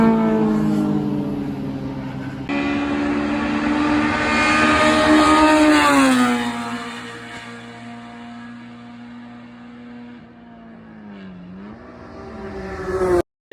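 A Honda CRX race car at the SCCA June Sprints screams past with a loud, buzzy engine note that rises, drops in pitch as it goes by, then holds a steady high drone into the distance, with no one talking.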